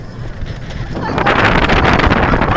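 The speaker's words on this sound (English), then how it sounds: "it's windy as hell" Strong wind roaring across the microphone on the El Toro roller coaster at Six Flags Great Adventure, a broad steady rush that swells louder after the first second and stays loud to the end.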